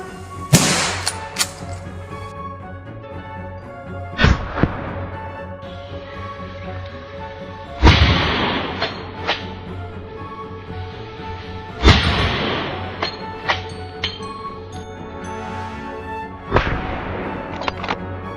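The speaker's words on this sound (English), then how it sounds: "raised his rifle, locked onto the target, and pulled the trigger" Rifle shots ring out at wild boars, several sharp loud cracks spaced a few seconds apart over a steady background drone.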